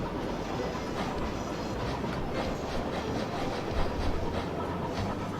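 Trains running in the video game Chris Sawyer's Locomotion, a dense continuous rumble with rhythmic clickety-clack of wheels on rail, steady and fairly loud throughout.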